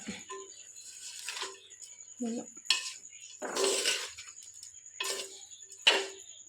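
Cabbage curry being stirred together with garam masala in a clay pot, a few scraping, clinking strokes of a utensil against the earthenware at an irregular pace, close by and fairly faint, with no talk.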